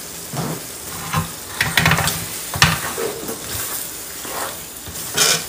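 Chopped tomatoes go into a hot pan of vermicelli with meat, giving a sizzle with scraping and stirring strokes that come in short bursts close by.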